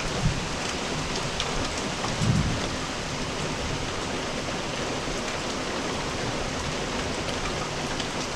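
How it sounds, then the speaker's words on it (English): Steady, dense rainfall pours down continuously, a loud even hiss with a faint low rumble early on. "Watching the rain makes me sleepy."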